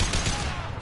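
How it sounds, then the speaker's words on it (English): A single heavy, high-impact gunshot in the video game Mass Effect 2, a loud close burst with a short rumbling tail. "Firing a high impact shot."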